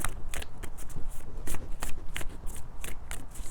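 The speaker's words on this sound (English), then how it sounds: "I'm going to shuffle from this deck" Cards riffled and shuffled from a deck, a steady run of crisp, close flutters and snaps repeating through the whole stretch with no voices.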